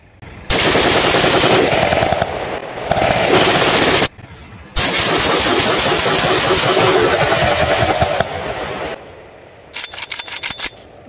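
An AKM-style rifle chambered in .223, made in Pakistan, fires long loud bursts outdoors: two sustained strings of rapid automatic shots separated by a short pause, then a brief final rattle of rounds.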